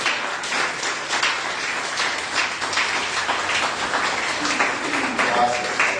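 A crowd applauds with sustained clapping, a dense patter of many hands over a low murmur of voices.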